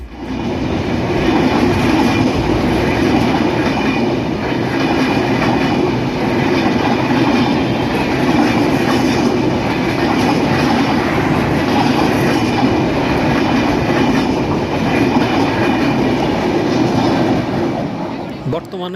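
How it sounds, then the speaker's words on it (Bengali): A Panchagarh Express passenger train with Indian LHB coaches runs on rails in Bangladesh with loud, continuous rumbling and rhythmic wheel clatter, heard up close throughout. "পঞ্চগড় এক্সপ্রেস ট্রেনটি ভারতীয় এলএইচবি কোচ নিয়ে চলাচল করছে"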